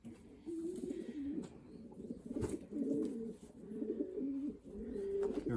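A young racing pigeon in a loft coos repeatedly up close, its soft, throaty rolling calls coming in a steady series, with no voices.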